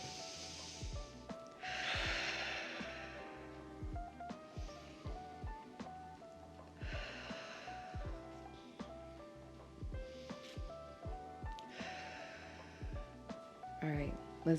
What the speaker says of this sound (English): Want to do some breaths with me?